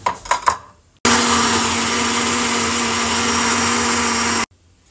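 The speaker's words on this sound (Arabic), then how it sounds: "وهنضربهم في الخلاط تاني" Kitchen blender whirring oil and orange juice for an orange cake batter, a loud, steady roar running for about three and a half seconds and then cutting off abruptly, preceded by a few short clatters.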